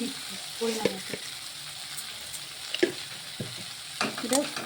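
Carrot and capsicum frying in a pan with a little sugar, a soft sizzle under repeated scrapes and knocks of a stirring spatula, close by with no talk.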